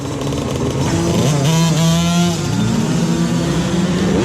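A motocross bike at an indoor practice track revs hard before a start, its engine loud and close, climbing and falling in pitch through repeated throttle blips with no talk over it.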